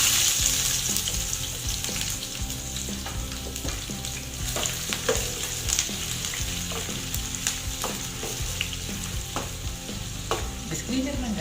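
Chopped onion frying and sizzling in a pan while being stirred, a steady loud crackle with scraping utensil sounds throughout, no talking.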